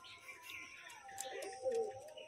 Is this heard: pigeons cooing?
yes